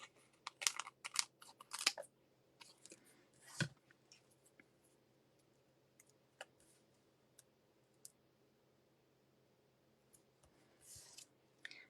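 Scissors snip through paper strips during card-making with a stamp set, giving short, quiet cuts and clicks in uneven bursts with pauses between them.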